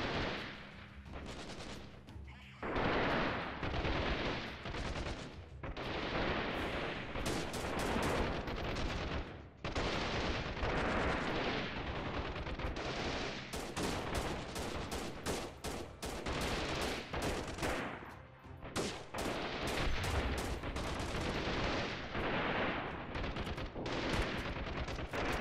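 Gunfire in the PC game Freeman: Guerrilla Warfare, loud and continuous volleys of rifle and machine-gun shots crackling almost without pause, close and intense, with no voices over it.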